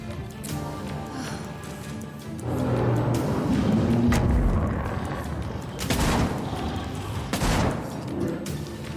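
Hand cannon shots ring out in the survival horror game Tormented Souls 2, several loud booming blasts with decaying tails spaced a few seconds apart over a game backdrop.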